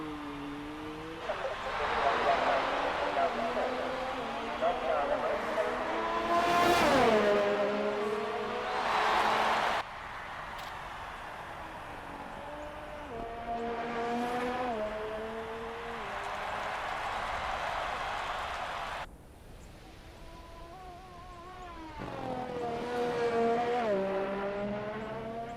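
Ferrari and other race car engines in a racing video game, a continuous rising and falling whine with gear-change steps, running under ongoing commentary throughout.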